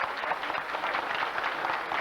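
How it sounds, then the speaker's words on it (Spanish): Festival crowd applauding a live folk music performance, with dense sustained clapping throughout and no talk over it. "Que el aplauso sea fuerte."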